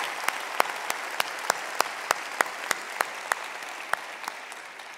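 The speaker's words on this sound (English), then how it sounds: "So let's give Stephen a round of applause" A large audience at a school district convocation gives a teacher sustained applause, a dense, even wash of clapping heard from within the hall, with no talk.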